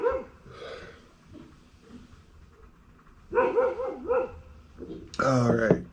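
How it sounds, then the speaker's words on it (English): A Belgian Malinois barks in a few short bursts, mid-distance, with a louder burst of yips at the end; quiet background noise between barks. "She is barking at probably absolutely nothing as normal."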